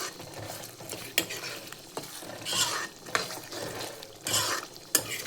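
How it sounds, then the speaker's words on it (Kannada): A spoon scrapes and stirs capsicum paneer chicken masala in a sizzling pan after salt goes in, with repeated clattering strokes over a steady frying hiss. "ನೆಕ್ಸ್ಟ್ ಇದಕ್ಕೆ ರುಚಿಗೆ ತಕ್ಕಷ್ಟು ಉಪ್ಪು ಹಾಕಿ ಮಿಕ್ಸ್ ಮಾಡಿ"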